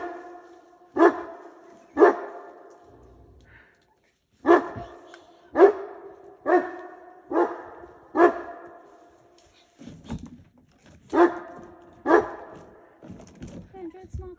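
A chained dog barks near a bull moose in a cabin yard, giving about nine loud, sharp barks in uneven bursts over a quiet outdoor background.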